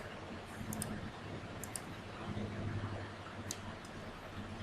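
Sharp computer mouse clicks during a screen-recorded CAD drafting session, a few isolated and paired clicks spaced over several seconds against a steady low hum and faint background noise.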